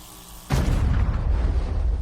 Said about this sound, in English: The explosion was enormous and instantaneous